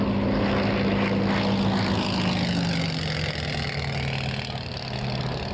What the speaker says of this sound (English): Spitfire. Landing light on.